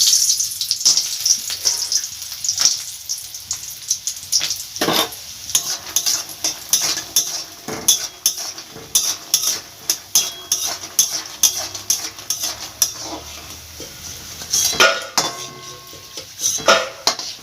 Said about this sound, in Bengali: তেলটা গরম হয়ে গেছে বড়িগুলো ভেজে নেবে